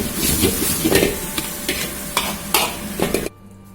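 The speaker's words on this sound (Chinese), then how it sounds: "韭菜下锅，小火慢慢的炒一下" Chives for a chive-and-tofu dish are stir-fried slowly in a wok over low heat, with several close scraping stirs over a soft sizzle that stops abruptly.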